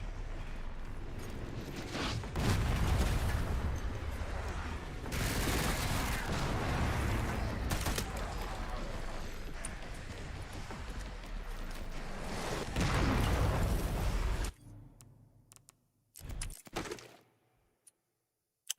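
Mortar blasts and gunshots from the video game Resident Evil 4 form a loud, dense barrage of booming impacts and cracks that runs steadily, then cuts off sharply into near silence broken by a few last thumps.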